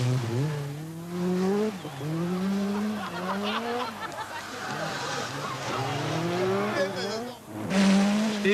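Peugeot four-wheel-drive rally car at the 1986 Monte Carlo Rally, its engine revving up and dropping back repeatedly with squealing tyres, while a commentator talks over it.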